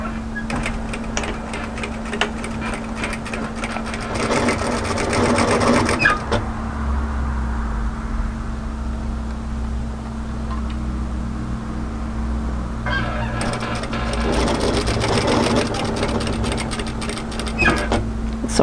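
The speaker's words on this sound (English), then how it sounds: "lift, turn and pivot to sew directly across the top of the strap, just the width of the strap" A sewing machine stitches across the top of a strap on a cami, with two bursts of close rapid stitching separated by a quieter pause.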